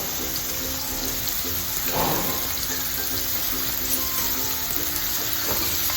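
Finely chopped onions, two medium ones, frying in hot oil in a pan, producing a continuous close hiss and sizzle with a faint scrape of stirring partway through.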